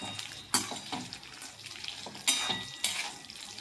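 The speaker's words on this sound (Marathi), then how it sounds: "आता यामध्ये आपल्याला हे शेंगदाणे घालायचे। एक 2 ते 3 मिनिट आपल्याला हे शेंगदाणे" Peanuts roasting in oil in a pan for Solapuri peanut chutney, with a soft steady sizzle broken by a few sharp stirring scrapes and clinks of a utensil against the pan, close and moderately loud, no talking.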